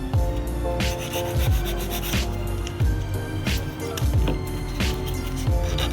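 Repeated rubbing strokes of a nail file shaping acrylic nails, steady and close, set against a tonal musical background.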